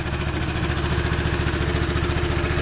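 A Honda Helix scooter engine idles steadily at about 1,500 rpm with a fast, even putter, close by and continuous throughout.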